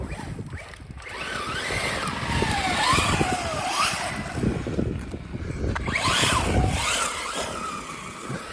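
Slash 4x4 RC car on a 3S battery with a Hobbywing 10BL120 combo and 14T pinion, its electric motor whining up and down in repeated rising and falling revs, outdoors in cold weather, fairly close with no talk.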